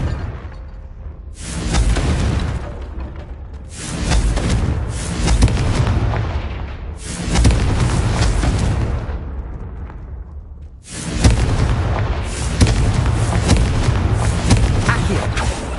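Fire-blast spell explosions from the video game Hogwarts Legacy burst out as four loud, booming blasts, each rolling on for a second or two with rumbling decay before the next one hits.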